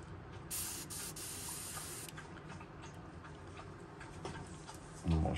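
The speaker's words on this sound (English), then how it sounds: "Just want to make sure I got my gun spraying right." An airbrush spray gun set to about 10 to 12 psi hisses steadily as it sprays paint through a stencil onto a lipless crankbait, a close continuous spray with faint ticking and a brief bump near the end.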